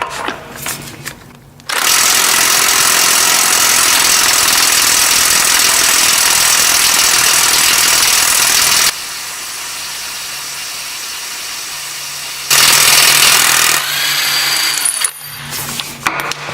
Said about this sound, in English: If we can remove this lug nut with this electric impact wrench, I'm going to say this thing is worth every penny.